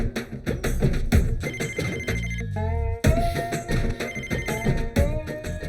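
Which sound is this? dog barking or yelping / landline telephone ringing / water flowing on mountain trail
landline telephone ringing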